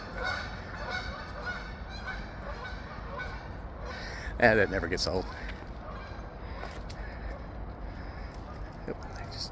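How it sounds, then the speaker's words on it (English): Geese honk on an outdoor walk, a short cluster of calls rising briefly above steady ambient noise near the middle, while a person speaks over the scene. "Oh, look, there's geese."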